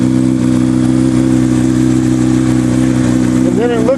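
Honda Dio scooter with an aftermarket exhaust running steadily, a loud close buzzing drone with a small rev near the end and a voice briefly talking over it.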